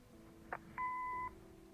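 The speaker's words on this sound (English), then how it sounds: "Leave a message after the beep." A short click, then a single clean electronic answering machine beep in the video game Kathy Rain, held for about half a second, quiet and clear over faint background hum.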